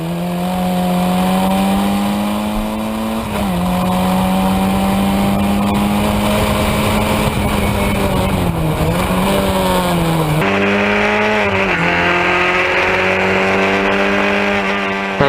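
Historic Formula Ford single-seater race cars lapping Cadwell Park, engines droning loudly and continuously with rising and falling pitch through gear changes, a second car's note joining near the end.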